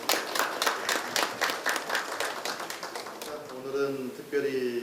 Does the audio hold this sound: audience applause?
yes